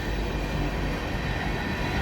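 A manifest freight train led by two SD40-3 diesel locomotives rumbles past close by, a steady, loud, unbroken roar of engines and rolling wagons with no voices.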